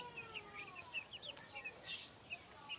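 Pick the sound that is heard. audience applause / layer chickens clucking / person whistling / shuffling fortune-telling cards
layer chickens clucking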